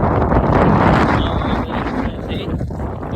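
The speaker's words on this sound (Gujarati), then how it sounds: "દરિયામાં છે ને ઠંડો મસ્ત પવન આવે છે" A cool sea wind at a seaside fair buffets the microphone in a loud, continuous rumbling gust while people talk.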